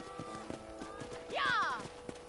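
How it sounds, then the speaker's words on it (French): A horse gallops in the video game Red Dead Redemption on PS5, its steady clip-clop hoofbeats joined midway by a loud, sweeping whinny, with faint game sounds underneath. "let's see if you can still ride a horse"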